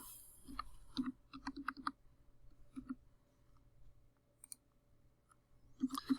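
Computer mouse clicks, quick paired taps with a few single ones, close and faint against a quiet background, no speech.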